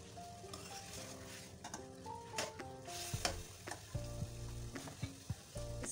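Chicken korma sizzles and fries in a pan with whole garam masala spices, the gentle frying noise broken by repeated sharp scrapes and clinks of a spoon stirring against the pan.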